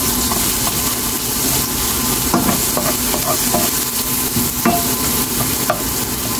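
Ginger and garlic sautéing in a hot pan for salmon sinigang sa miso, a loud continuous sizzle with occasional clinks and scrapes of a stirring utensil.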